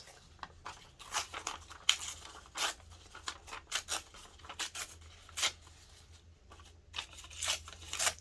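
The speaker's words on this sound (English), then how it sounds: "And so we'll just tear the edges" Paper book pages being torn along their edges, a quiet series of short, crisp rips and crinkles in irregular bursts, close up with no voices.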